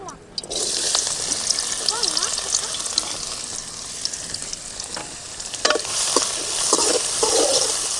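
Steady crackling sizzle of food frying in hot oil, with occasional stirring clinks and pops throughout.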